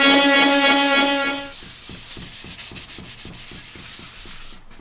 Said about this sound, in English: The only thing I'm going to do now is just get a sander over that.